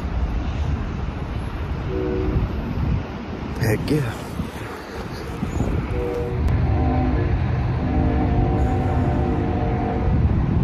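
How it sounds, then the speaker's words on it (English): A train passes on the main line tracks near a bridge, its horn sounding in several sustained blasts over a steady rumble and wind buffeting, while someone talks over it. "I heard a train honking over there."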